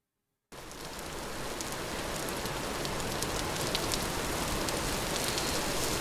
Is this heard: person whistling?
no